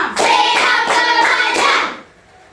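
Elementary schoolchildren in a fifth-grade classroom clap together in a quick, rhythmic patterned sequence of five beats, loud and close, then stop abruptly into near silence.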